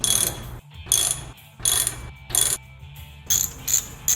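Ratchet wrench snugging the stanchion cap bolts on a Honda CT70 fork, five loud bursts of rapid metallic clicking separated by short pauses, close up.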